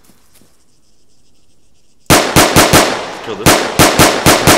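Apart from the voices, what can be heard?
pistol gunshots in Arma 3 video game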